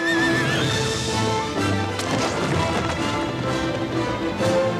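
A horse whinnies loudly over a rich, dense background, with hoofbeats clopping steadily underneath throughout.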